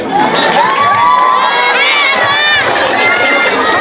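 Loud pageant crowd at a national costume show cheers and shouts continuously, with high-pitched screams and whoops rising over a dense, steady roar throughout.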